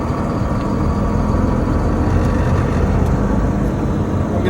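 A 2011 Volvo 730 truck towing a 17,500-pound, 39-foot RV trailer rumbles with a loud, dense engine roar that holds steady throughout, heard from inside the cab.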